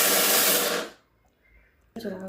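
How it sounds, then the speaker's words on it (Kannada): A mixer grinder grinds moong beans with a loud, steady whirring for about a second, then cuts off into near silence before another burst of sound starts. "ಮಿಕ್ಸಿಗೆ ಹಾಕೋಬೇಕು"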